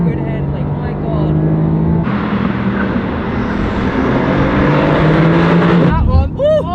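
Mercedes-AMG GT R Pro sports car driven hard, its engine roaring loud and close throughout with a surge in intensity partway, while excited people talk over it.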